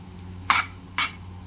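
Two short scraping strokes of a utensil stirring chicken yakisoba pansit canton in a pan, close and distinct over a low steady hum.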